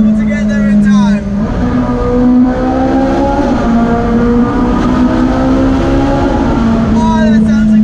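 A Ferrari engine revs hard in traffic near Monaco, its loud rising and falling drone dominating with gear-like pitch sweeps, steady and close throughout.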